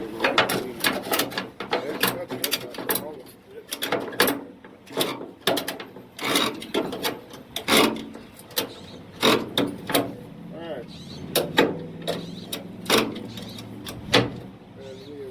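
A ratchet strap clicks repeatedly as it tightens down a car tire on a trailer, close and fairly loud in irregular bursts of ratcheting, with a voice speaking between some of the pulls.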